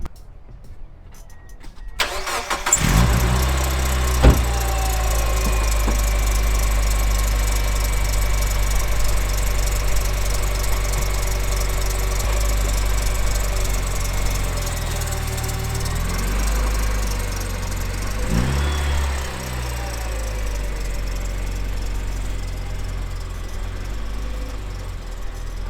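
A Mazda NB Miata engine runs steadily and loud throughout a drive, with a couple of brief shifts in engine pitch as gears change; no one speaks.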